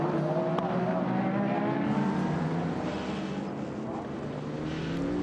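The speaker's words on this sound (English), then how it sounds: "we ride on board behind him in car number 6, Porsche Penske Motorsport car of Laurens Vanteur" On board the number 6 Porsche Penske Motorsport prototype during a six-hour endurance race at COTA, the engine drones loud and steady with shifting pitch as the car laps at speed.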